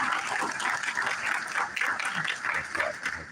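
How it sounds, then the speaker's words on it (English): An audience at a spring concert applauds the senior high chorus, a dense, sustained wash of many hands clapping, with a voice briefly heard among it. "how about one more round of applause for the senior high chorus"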